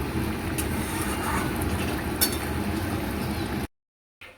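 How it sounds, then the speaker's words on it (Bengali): Eggplant frying in a pan, a steady close sizzle and bubbling hiss that holds at an even level, then cuts off abruptly near the end. "এবারে বেগুনটা ভেজে নেব এটাকে খুব ভালো করে ভাজতে হবে"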